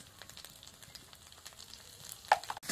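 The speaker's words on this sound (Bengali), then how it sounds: "আদা বাটা, কাঁচা লঙ্কা ভালো করে নাড়বো" Ginger paste and green chillies fry in oil and are stirred, a soft close sizzle with light scraping strokes and a sharper clack near the end.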